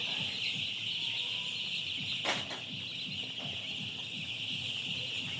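Many broiler chicks, about fourteen hundred, cheep and peep at once in a dense, continuous chorus, with a steady high-pitched hum running underneath.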